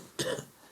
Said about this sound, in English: smoker's cough, huh?